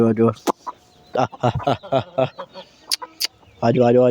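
Hens clucking on a small farmyard alongside goats and rabbits, short bursts of close, loud clucks repeating irregularly, with a person speaking between and over them.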